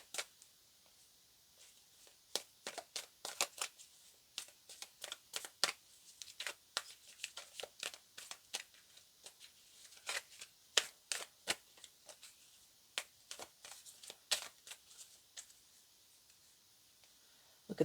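Tarot cards are shuffled in a run of sharp, crisp riffling clicks and flutters that come in irregular bursts, close and fairly quiet, with short pauses between.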